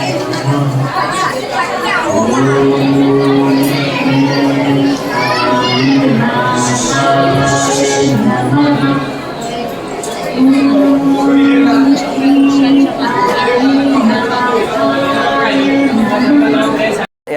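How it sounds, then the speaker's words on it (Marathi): A crowd of devotees gathers at the Sai Baba temple on New Year, a loud, close hubbub of many overlapping voices, children among them, with chanting or calling rising over the babble. "साई मंदिरात गर्दी आहे गर्दी"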